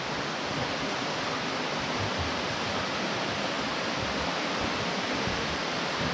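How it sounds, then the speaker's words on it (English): River flowing right beside a boardwalk under a large rock overhang in Audra State Park, West Virginia: a steady, even rush of water close by, with no talk. "It's right along the river here."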